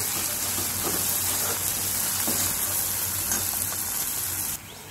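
Tomato masala for chole roasting in a pan, a steady close sizzle and crackle with faint stirring, continuous throughout and easing slightly at the very end.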